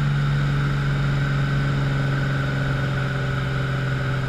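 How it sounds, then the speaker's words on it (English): Steady, loud drone of a Cessna U-206G Stationair piston engine throttling back after takeoff from Torrance, a constant low hum and harmonic whine heard from inside the cabin, with no voices. "as soon as I get to the end of the runway, you're going to hear me reduce the RPMs"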